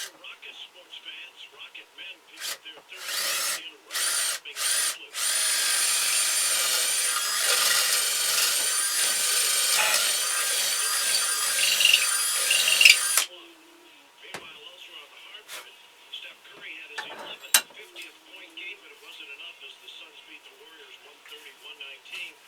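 A power drill with a larger bit bores into wood for a carved ventriloquist figure, starting with short bursts, then a sustained loud whirring grind of about eight seconds before stopping; someone talks afterward.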